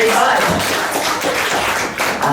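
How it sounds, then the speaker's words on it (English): Audience applause for a volunteer named Ollie coming up on stage at a live show, a dense steady wash of many hands clapping at full volume throughout. "a huge round of applause for Ollie"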